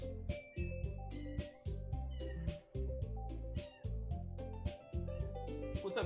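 A pet cat meows repeatedly and close by, a string of roughly half a dozen drawn-out calls with short gaps between them.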